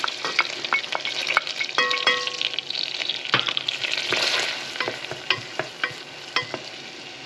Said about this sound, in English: I'm going to add our mirepoix to the butter and saute those vegetables.